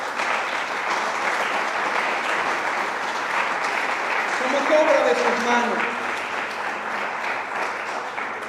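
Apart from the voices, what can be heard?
congregation applauding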